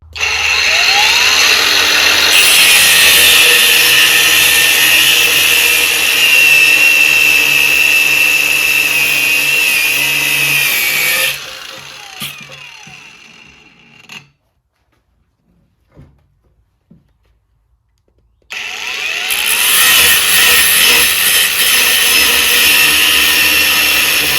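A loud, sustained angle-grinder-style cutting noise with a high whine as a welded metal part of a Bolens sleeve hitch is cut, stopping for a few seconds of near silence before starting up again.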